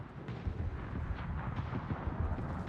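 Secondary guns on a warship in World of Warships fire in a dense, rumbling barrage of overlapping booms and crackles, sustained and loud throughout.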